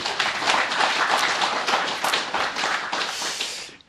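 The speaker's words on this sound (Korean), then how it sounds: "박수 한번 더 쳐요" An audience claps steadily through a Buddhist meditation talk, the applause dense and sustained for several seconds before tapering off at the end.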